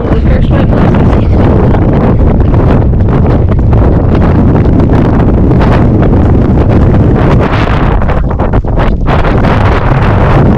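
Strong, steady wind on a mountain along the Appalachian Trail roars and buffets the microphone without a break, a loud rushing blast that fills the whole stretch.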